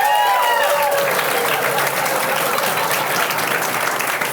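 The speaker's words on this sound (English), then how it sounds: "Now prepare another round of applause, comparable to mine, though diminished in volume, to reflect the host-assistant relationship for Victoria Scorbahatch." Studio audience applause for the host's assistant on a comedy panel show, steady dense clapping sustained throughout at moderate loudness, with a few brief whoops at the start.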